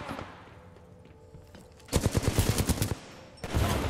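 Automatic gunfire from the video game Titanfall 2, a loud rapid burst of shots lasting about a second, followed by a short pause and a second burst starting near the end, over quieter game ambience.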